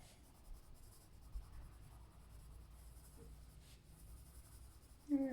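Colored pencil shading across paper in an adult coloring piece, a soft continuous scratchy rasp running steadily and quietly throughout, with a brief sharper sound at the very end.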